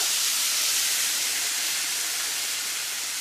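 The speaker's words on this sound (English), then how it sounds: "A litre of boiling water goes over." Boiling water poured over 500 grams of bulgur wheat in a home kitchen, a loud, steady rushing hiss that runs unbroken for a few seconds with no talk over it.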